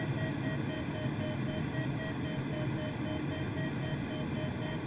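A glider variometer in Microsoft Flight Simulator gives regular intermittent electronic beeps, evenly spaced short tones repeating over a steady engine-like hum at low volume, with no talking.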